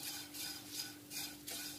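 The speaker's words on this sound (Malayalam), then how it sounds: "അവല് നല്ല മൊരി മൊരിയായി വറുത്തെടുക്കണം" A spoon scrapes and stirs flattened rice (aval) as it roasts dry in a pan, making soft rhythmic swishes roughly every half second, quiet and close with no voices.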